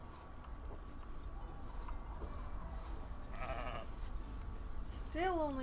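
Sheep bleat in the video game Surviving the Aftermath, with a short bleat late in the clip over a steady background hum and faint game sounds.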